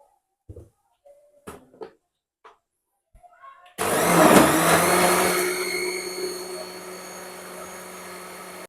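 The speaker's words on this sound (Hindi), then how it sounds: "अब हम इसको अच्छे से क्रश करेंगे।" A blender crushes ice and mint with 7 Up for a mint margarita, roaring loud and steady for about five seconds after a few quiet clinks and taps of preparation, then slowly easing off.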